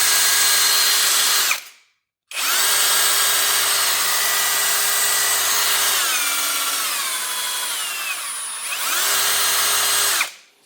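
A Parkside Performance 12V cordless drill drives a 2.9x50 drywall screw, giving a loud, close, whirring motor run that drops briefly silent, restarts, sags in pitch as the screw bites, then rises again before stopping.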